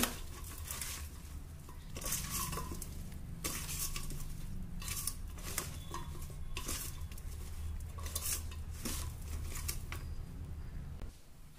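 Cumin, coriander and garam masala powders being mixed into okra in a bowl, with repeated scraping, clinking strokes of a spoon against the bowl in an uneven rhythm, close and fairly quiet.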